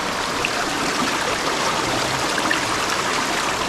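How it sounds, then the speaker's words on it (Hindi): Clear stream water rushing steadily through the narrow village lanes of Turtuk in Ladakh, a continuous broadband flowing wash, close and even throughout with no voices. "आप पानी की आवाज़ सुन सकते हैं।"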